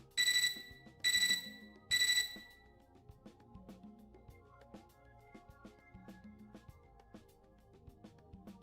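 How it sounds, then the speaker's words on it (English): Computer terminal in the Fate/Extra video game, sounding three bright, evenly spaced ringing beeps, followed by soft tinkling game music. "Our mutual silence is interrupted by my computer terminal's beeping"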